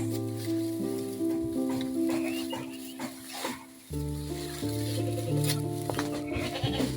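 Goats on a farm bleat repeatedly in a loud, close chorus of wavering calls, one voice overlapping the next with barely a pause across the whole stretch.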